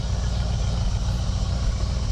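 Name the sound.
1967 Buick GS340 engine idling, possible exhaust leak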